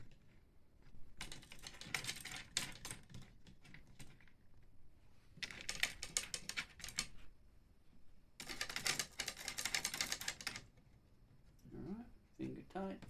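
Tension rods on a Yamaha Stage Custom tom being turned by hand: three bursts of rapid light clicking and rattling separated by quieter pauses, close, with a voice speaking briefly near the end.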